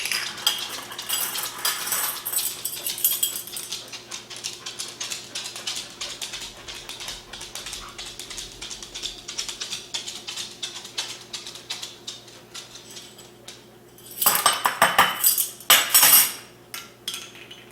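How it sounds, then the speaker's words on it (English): Sour cream, sugar and vanilla are stirred together in a bowl, producing soft, busy scraping and clinking of a utensil against the dish. Louder bursts come toward the end, with no talking. "And we mix that together till it's nice and smooth and creamy"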